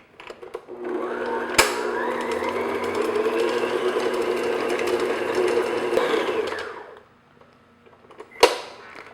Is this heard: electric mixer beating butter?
yes